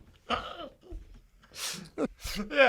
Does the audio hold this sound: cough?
yes